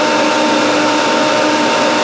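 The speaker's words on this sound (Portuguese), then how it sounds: "O liquidificador vai ter dificuldade de bater." Blender labouring through thickening homemade coriander mayonnaise, a steady loud whirring motor drone filling the whole clip with no talk.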